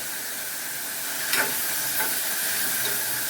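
Four split green chillies sauté in a hot pan for Bombay chutney. A continuous bright sizzle and hiss is marked by a couple of brief stirring clinks, with no voices.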